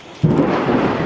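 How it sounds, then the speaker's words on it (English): Close thunder during a storm bursts in suddenly and rolls on as a loud, deep, sustained rumble with no voices over it. "Oh, that's some pretty close thundering and lightning."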